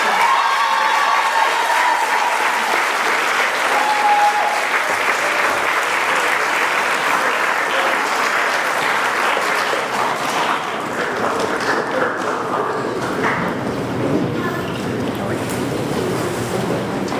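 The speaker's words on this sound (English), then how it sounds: "So a round of applause to our teachers." Audience applause at a high school graduation ceremony for teachers and staff, a steady wash of clapping that runs the whole length, fairly loud and even, fading slightly toward the end.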